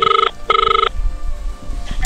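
A phone ringback tone plays over speakerphone: two loud electronic trilling rings separated by a short gap, followed by faint background murmur and noise.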